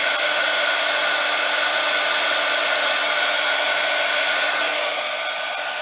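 A heat tool blows hot air onto embossing powder to melt it, making a steady, loud, continuous whooshing hum like a hair dryer that runs unbroken and alone, easing slightly near the end.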